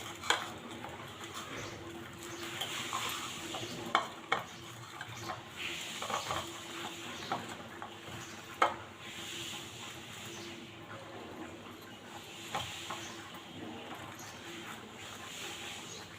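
A pointed gourd and coconut curry being stirred in a pan, with soft scraping and a few light clinks of a spoon against metal over a faint sizzle throughout.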